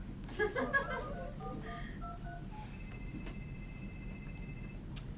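A short run of dialing tones is followed by a long electronic ringing tone on a phone line, then quiet line hiss.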